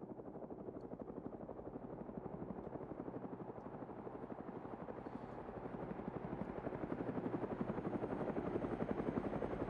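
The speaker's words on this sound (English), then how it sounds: "There is our delivering helicopter." A delivery helicopter in the video game Arma 3 flies overhead. Its rotor thumps steadily and grows louder as it approaches, and there is no talking.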